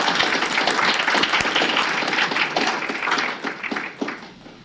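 Audience applause at an academic faculty symposium, dense sustained clapping from a seated crowd that stays loud, then thins and tapers toward the end, with no talk over it.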